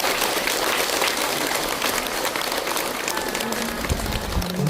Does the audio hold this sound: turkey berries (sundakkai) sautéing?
no